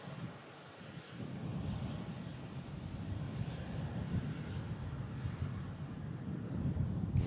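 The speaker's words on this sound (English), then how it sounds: "KLM on the taxi out to Amsterdam" A KLM airliner taxiing out at Manchester Airport, bound for Amsterdam: a steady low engine rumble and roar that builds after the first second and holds, heard from a distance with some wind noise and no speech.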